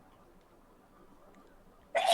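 A single sharp, loud sneeze bursts out abruptly at the end after a stretch of near silence.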